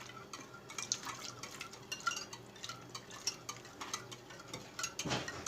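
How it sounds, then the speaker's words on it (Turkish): Milk pours into a bowl of whisked egg and sugar for pancake batter, a faint, steady liquid trickle with small drips and splashes, alone and fairly quiet throughout. "Şimdi sütlerimi ekleyeceğim."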